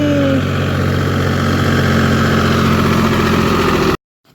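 A tractor engine chugging steadily at close range, a loud continuous diesel rumble that cuts off abruptly near the end.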